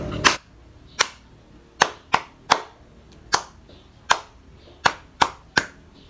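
Hand claps as body percussion: around eleven loud, sharp claps in an uneven rhythm, each standing alone against near silence.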